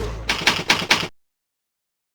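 A typewriter clacks in the video game Heaven Dust, with four quick, loud keystroke bursts in a row. Silence follows, broken only by one faint click at the very end.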